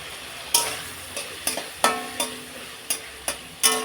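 Ground spice paste with green chillies being fried and stirred in a pan, close sizzling broken by a series of sharp scraping and clinking spoon strokes at an irregular rhythm, with no talking.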